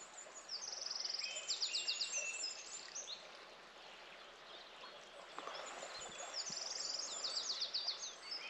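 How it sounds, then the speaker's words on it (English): Birds sing outdoors at a campsite, bright chirping trills repeating in two bursts with a quieter stretch between, over a soft steady rush like flowing water and a few low knocks, with no talking. "The bird song's just amazing."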